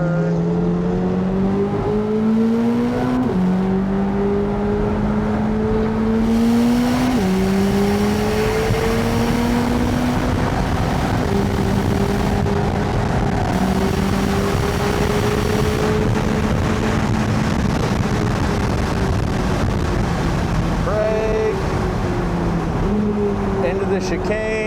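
A 2025 Corvette ZR1 lapping the Daytona track, its engine loud and close throughout, pitch repeatedly climbing through the gears with brief drops at shifts, while someone talks over it.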